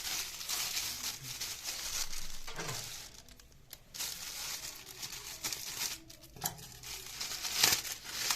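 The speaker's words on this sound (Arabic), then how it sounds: "وهنفتح لفة الجلاش بتاعتنا" Phyllo dough being unrolled and opened from its roll, a dry papery crinkling and rustling that goes on steadily, with a few sharper crackles near the end. No one talks.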